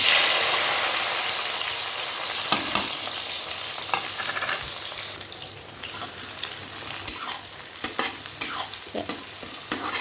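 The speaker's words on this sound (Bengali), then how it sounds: "এবার আমি কেটে রাখা পেঁয়াজ রসুন আর এখানে কিন্তু আমি কাঁচা লঙ্কা নিয়েছি দু চারটে এবার একসঙ্গে আমি কিন্তু ভেজে নেব" Chopped onion, garlic and green chilies fry in hot oil in a home kitchen while being stirred for a chicken gizzard and liver tandoori bhuna, giving a steady close sizzle and hiss broken by scraping stir strokes.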